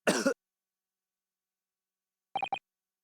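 A character in The Great Ace Attorney video game coughs, one harsh burst alone followed by silence, then a pair of quick clipped coughs.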